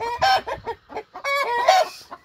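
Hens clucking loudly and agitatedly in a garden henhouse after laying an egg, several close, overlapping cackling bursts in quick succession.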